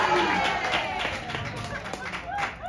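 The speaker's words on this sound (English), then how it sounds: "clap if you have kids." A comedy club audience claps in a brief scattered burst, with a voice talking over the sparse claps.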